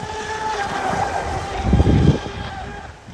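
An electric RC outboard boat motor runs on a 3S 8000mAh 100C LiPo with a steady, close electric whine, swelling to a brief louder rumble near the middle before easing off.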